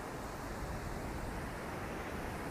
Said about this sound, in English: The waves are pretty noisy.